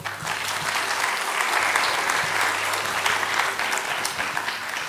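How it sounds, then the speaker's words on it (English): A seated audience at a national business analytics conclave claps steadily and densely, a broad, sustained wash of many hands lasting several seconds at moderate level with no talk over it. "Please clap for everyone who is here."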